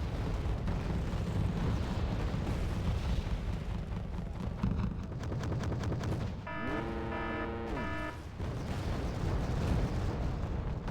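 Artillery fires in a video game as a continuous loud, dense rumble of booms and blasts, with a brief tonal mechanical whine partway through and no voices.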